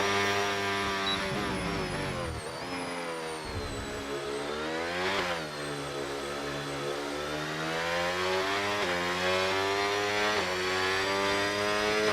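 A McLaren race car in a racing video game on a China circuit, its engine a loud, high-pitched whine that climbs and drops through gear shifts and sweeps past, steady and close with no voices over it.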